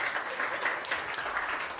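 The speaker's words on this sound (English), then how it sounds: "Let's clap for ourselves." Schoolchildren clapping together during a reading quiz visit, a brief dense patter of applause heard close and continuous with no talk.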